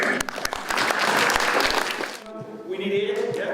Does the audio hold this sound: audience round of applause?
yes